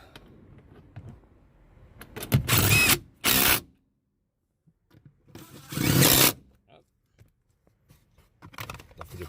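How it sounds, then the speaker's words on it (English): Ratchet wrench tightening the front seat bolts of a Nissan Altima or Maxima, heard as two loud bursts of rapid clicking a few seconds apart, with quieter handling noises and brief speech around them. "Let's tighten this up."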